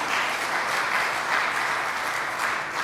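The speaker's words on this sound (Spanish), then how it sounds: "¿Cuántos le dan un aplauso?" Steady, dense applause from a church congregation during a sermon, sustained clapping at an even level throughout, no speech over it.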